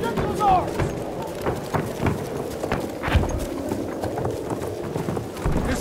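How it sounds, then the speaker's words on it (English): A horse gallops in the Battlefield 1 video game, with rapid hoof clip-clops under a busy battle mix of voices, shouts and impacts throughout. "There's an enemy horse rider!"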